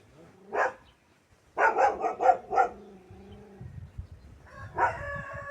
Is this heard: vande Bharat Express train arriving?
no